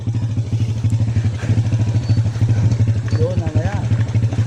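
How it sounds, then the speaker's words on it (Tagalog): A motorcycle engine chugs steadily along a muddy path near coconut palms, its rhythmic low idle-to-drive pulse loud and close throughout, with brief voices talking over it. "Awa ko sa motor ah."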